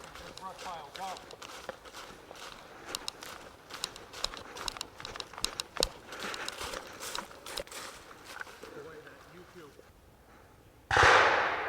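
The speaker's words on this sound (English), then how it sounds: "That sounds like a German machine gun." Distant German machine gun firing during a WWII reenactment at a wooded crossroads, faint irregular cracks and bursts heard under footsteps and people talking nearby, ending in a loud close rush.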